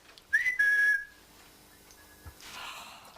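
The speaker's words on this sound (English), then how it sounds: "your thing was a two-tone whistle" A short whistle rises and holds a steady tone, then breaks off. A faint softer whistle follows later over a quiet hiss, with no speech during it.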